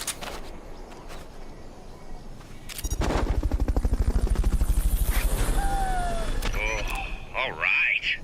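Fulton recovery helicopter in the video game Metal Gear Solid Peace Walker, a loud rhythmic rotor thump that swells in after a few seconds and holds steady, with game effects and chirps layered on top.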